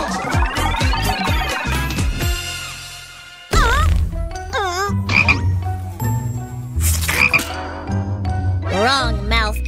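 Cartoon frog croaks in a kids' animated pet-care story, a series of bright, warbling, bouncy calls mixed with playful synthetic sound effects and musical tones, loud and close throughout.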